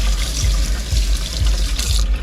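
Running water splashes steadily over a Jebao DCP 10,000 return pump part as it is rinsed for a 90 gallon saltwater aquarium, a close, continuous broadband rush with no voices.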